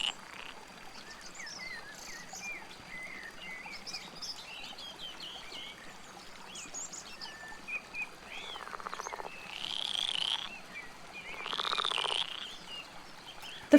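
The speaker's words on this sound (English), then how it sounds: "The frog sounds are so good." Frogs croak in pulsing bursts beside a bank of water in the video game Roadwarden, with birds chirping and a faint stream in the background, all soft and ambient with no talk.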